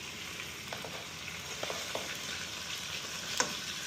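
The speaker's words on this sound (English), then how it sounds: "I'm going to put in the onions. Let them saute for a few minutes." Onions sauté in a pan with a steady, soft sizzle, broken by a few faint clicks and stirring scrapes and one sharper tap near the end, with no talking.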